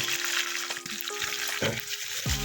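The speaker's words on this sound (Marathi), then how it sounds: "हा मसाला आपण ना चार ते पाच मिनिटं छान असा फ्राय करून घेऊया" Ground masala for egg tawa masala sizzles and crackles in hot oil with occasional stirring scrapes, close and fairly loud, with no talking.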